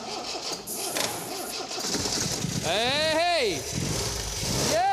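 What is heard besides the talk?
MG MGB car engine cranking and starting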